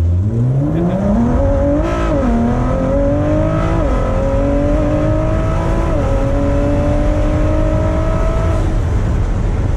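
A Ford GT sports car cruising slowly on a hot day, its engine running rough, with a loud, close drone that rises and dips in pitch through gentle throttle changes.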